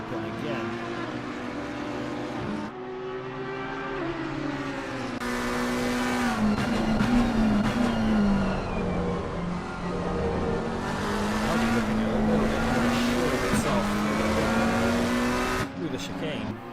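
Race cars roar at full throttle in a racing video game during a four-hour endurance race at Zolder, drag racing toward the Kleiner chicane. Loud, rising and shifting engine whines run continuously beneath a commentator talking.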